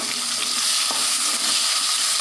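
Finely chopped onion fries in hot oil with dried red chillies, a bay leaf and black cumin seeds, giving a dense, steady sizzle that stays loud and even throughout, with a faint stir partway through and no talking.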